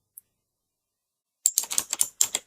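A short burst of computer keyboard typing follows near silence, with about eight quick, close keystrokes in an uneven rhythm after one faint tap at the start.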